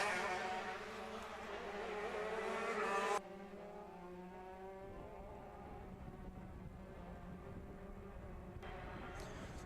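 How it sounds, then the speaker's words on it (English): 125 modified shifter karts race around a track at a Lone Star Grand Prix event, their high-pitched engines buzzing and rising in pitch as they pass, heard from a distance with a steady track roar. "81 miles an hour is what these shifter carts are hitting around this track right now"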